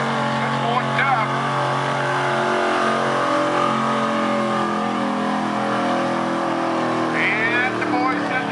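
A modified pickup truck in the 6400 lb mod class at the 2014 Piscataquis Valley Fair truck pull, its engine revving with a loud, steady, buzzing roar for the whole stretch while a voice speaks over it.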